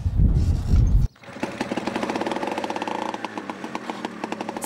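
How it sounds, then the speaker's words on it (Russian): An old Belarus tractor's engine chugs in a rapid, steady rhythmic putter after a sudden cut from a louder rumble, close and fairly loud. "Старенький белорус только Алене и подчиняется."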